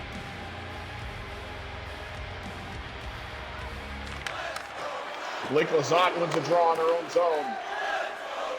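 A digital hockey arena crowd in NHL 26 rises into booing and jeering during a Pittsburgh at Seattle game, swelling over a commentator describing play.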